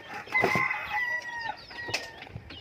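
Native chickens clucking and calling close by in a short burst of several squawks, with some shuffling in the background.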